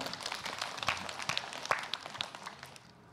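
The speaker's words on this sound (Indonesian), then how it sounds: "Tepuk tangan dulu yuk." A studio audience claps at the taping of an Indonesian Islamic television talk show, a dense, steady patter of many hands that stays fairly faint and fades toward the end.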